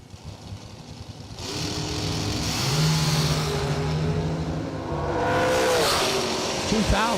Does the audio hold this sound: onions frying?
no